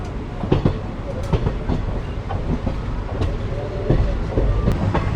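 A passenger train moves along platform 2 at a station on a Moga to Haridwar journey, with steady low rumble, rhythmic wheel clatter and occasional clanks heard from close by.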